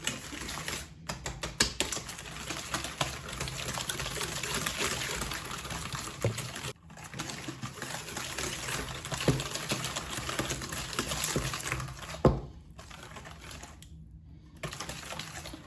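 Sugar and vanilla sugar are stirred together in a bowl for coconut biscuits, a fast continuous close scraping and ticking rattle that runs steadily with a few brief pauses.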